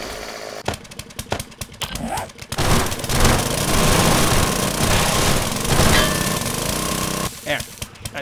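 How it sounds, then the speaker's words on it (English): A chainsaw in the game 7 Days To Die revs and cuts in loud, sustained bursts with a rattling, buzzing drone, stopping and restarting near the end, with someone talking over it. "Chainsaw is not the right thing to be using."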